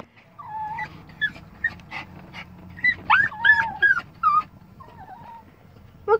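A dog whimpers and cries inside a car, with a string of high, wavering whines and yelps, close and fairly loud, over the low hum of the vehicle.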